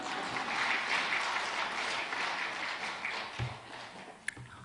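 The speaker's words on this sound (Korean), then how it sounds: "동의하시는 분만 박수." A church congregation claps during a sermon at a Korean worship service, a moderately loud wash of many hands that thins out toward the end with a couple of sharper isolated claps.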